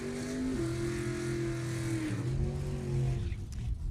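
Gasser drag cars, a 55 Chevy and a 65 Mustang, rev and accelerate at a raceway, a loud engine drone with pitch shifts, moderately distant.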